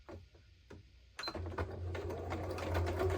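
A sewing machine stitches a parallel seam, starting after a few soft clicks and then running steadily with a low motor hum and rapid needle clatter, close and moderately quiet.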